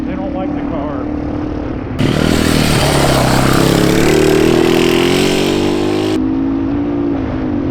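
A Trailmaster MB200 big-tire dirt bike engine revs hard and close, its pitch climbing and holding for a few seconds before settling back toward a steady idle.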